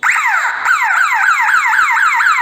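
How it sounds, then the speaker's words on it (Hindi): A loud electronic alarm siren from a CCTV system's alarm output wails in rapid repeating sweeps, close and continuous, with no voices. "आप देख सकते हैं कि सायरन एक्टिवेट हो चुका है"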